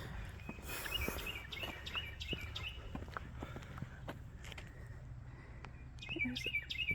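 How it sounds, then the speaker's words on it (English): Birds chirp along a wooded trail near a visitor center on a rainy day after a fire, repeated short high tweets in small bursts, fairly faint, with footsteps and soft ambient noise underneath. "There's a bird talking."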